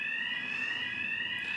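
A fire alarm sounds continuously in a cake studio, a steady, loud, piercing two-tone electronic beep that holds without pause throughout.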